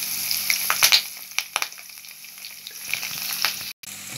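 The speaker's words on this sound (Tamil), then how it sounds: "லோ ஃப்ளேமில் கொஞ்சம் நேரம் வேக விடுங்க." Chickpea masala fry (channa masala) cooking in a pan on a low flame gives a steady soft sizzle with a few sharper crackles and light stirring scrapes, close and alone with no talk.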